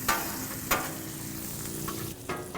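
Chorizo and ham sizzling on a Blackstone griddle, a continuous close crackling fry with a couple of sharp spatula taps, no voices.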